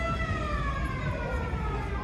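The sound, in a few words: air raid siren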